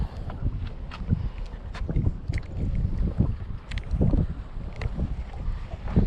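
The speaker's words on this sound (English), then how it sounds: "This wind is whooping pretty good out here today" Strong wind gusting over open water on a summer crappie fishing outing, a steady rushing roar with buffeting microphone gusts throughout, no talking.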